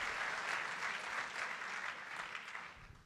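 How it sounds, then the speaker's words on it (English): Applause from a crowd at a political rally, a steady wash of clapping that holds on for three seconds and fades slightly at the end. "This is a fired up crowd."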